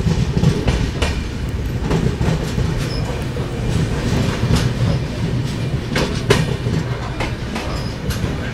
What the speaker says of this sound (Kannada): ಇದು ನಮ್ಮ ಟ್ರೈನ್ ಅರೈವ್ ಆಗಿದೆ ಕುಂದಾಪುರ ರೈಲ್ವೆ ಸ್ಟೇಷನ್ಗೆ.